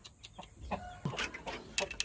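A chicken clucks close by in a quick series of short, uneven clucks over about two seconds, with no talking.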